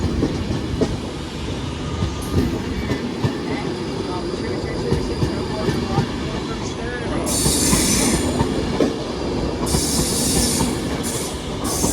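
A Manchester Piccadilly service pulls out of London Euston station with continuous rail rumble and clattering wheels, plus intermittent high squeals near the end, while faint background voices murmur on the platform.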